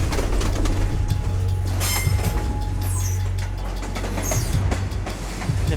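A freight train moves through Mexico, its heavy continuous rumble of rolling wagons carrying occasional metallic wheel squeals, with birds calling faintly above the steady din.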